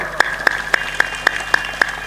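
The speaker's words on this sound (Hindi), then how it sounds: "ताली बजा दो" An audience at a gathering claps for a politician, a member of parliament, as he is garlanded. The single claps are sharp and evenly spaced in a steady rhythm, about four per second, over a faint constant tone.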